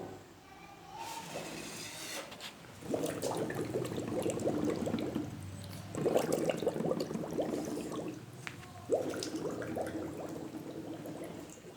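Air blown through a straw into a glass of water makes it bubble and gurgle in three separate bursts, each lasting a couple of seconds, close by.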